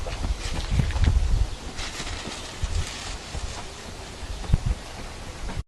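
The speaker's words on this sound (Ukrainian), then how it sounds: "Дуже вітряний день" Strong gusts of wind roar and buffet the microphone outdoors on a very windy day while a kite is flown, with loud low rumbling bursts rising and falling throughout.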